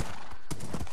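A small horse in the Minecraft video game trots with a few quick, close clip-clop hoof steps in a short burst.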